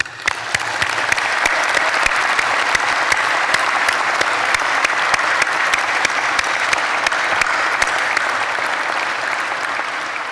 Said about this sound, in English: I think you all deserve a round of applause from the students